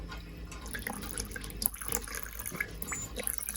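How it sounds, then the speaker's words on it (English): Water trickles slowly into a reef aquarium during fish acclimation, a soft, close, continuous pouring and dripping with small splashes throughout. "I'm just going to slowly add a little bit of the water"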